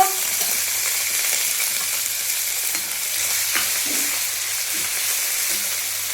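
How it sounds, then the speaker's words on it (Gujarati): Half a spoon of hing and ginger-chili paste hit about three spoons of hot oil in a pan while making samosa filling, giving a loud, continuous close-up sizzle with no voices. "હવે નાખી દેવી અડધી ચમચી હિંગ, આદુ મરચાની પેસ્ટ"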